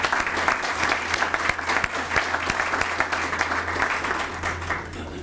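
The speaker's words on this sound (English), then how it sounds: "Let's give her a round of applause." Applause for Mayor Catherine Pugh at an apartment grand opening in Maryland: a crowd claps steadily and fairly loudly for about five seconds, with a low hum running underneath.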